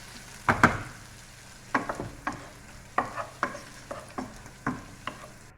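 Food cooking in a pan with ginger and curry, a quiet continuous sizzle beneath a series of sharp, close scraping and tapping knocks of a utensil stirring against the pan.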